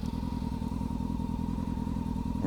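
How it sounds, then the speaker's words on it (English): A motorcycle engine turned over and running, a steady, close, rhythmic idle chug with light mechanical clatter throughout. "let me turn the bike over for you"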